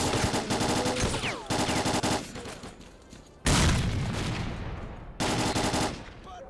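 Gunfire in STALKER: Clear Sky comes as loud bursts of rapid automatic shots, several separate volleys broken by short pauses, with echoing tails fading between them.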